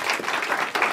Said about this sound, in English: So let's applaud to them as well.